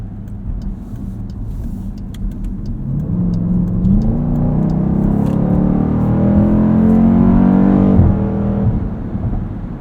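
A 2020 Dodge Durango SRT with an 8-speed automatic accelerates hard, its engine note climbing steadily with clean upshifts audible, loud and close from inside the cabin, no talking.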